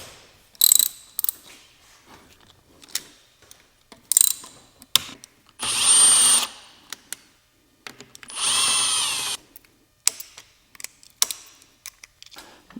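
A ratchet wrench loosens the casing of a sequential transmission during a rebuild. It makes several short, loud bursts of rapid clicking close by, including two longer runs, separated by pauses, with no talking.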